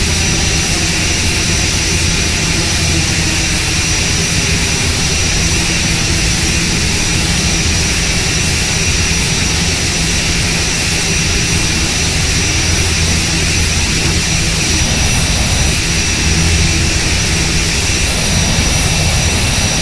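Twin turboprop engines of an ATR 72 in cruise flight in the Prepar3D v5 simulator, a loud, unbroken drone and hum with steady propeller tones throughout and no talk.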